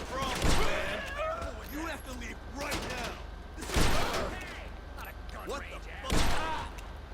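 Pistol shots from the Perico pistol in GTA V firing on armored enemies, a few loud distinct bangs spaced seconds apart with a person talking in between.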